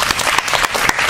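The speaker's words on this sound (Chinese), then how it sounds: "大家给他一个掌声" Audience applause for a speaker at a Chinese-language speech club gathering: a brief, dense burst of many people clapping, loud and close, with sharp individual claps in the steady wash.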